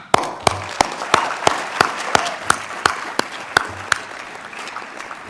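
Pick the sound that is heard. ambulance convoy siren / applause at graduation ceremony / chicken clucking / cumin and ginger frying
applause at graduation ceremony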